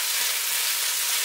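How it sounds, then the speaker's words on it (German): Chopped onion frying in a pan on a stove at its highest setting, a dense, continuous hiss of sizzling fat, fairly loud and steady with no voices. "Jetzt kommen die Zwiebeln rein. Das ist eine Zwiebel. Kurz anbraten."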